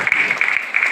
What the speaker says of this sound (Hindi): जोरदार तालियां से बजाएं